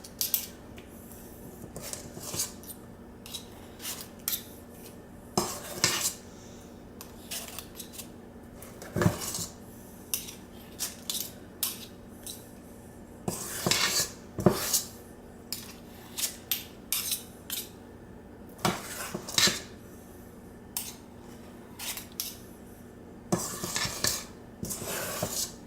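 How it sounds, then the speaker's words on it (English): Blueberry muffin batter spooned into muffin pans with two regular tablespoons, giving scattered clinks and scrapes of metal spoons against the pans, soft and close, in irregular bursts over quiet room tone. "spoon it into your prepared muffin pans."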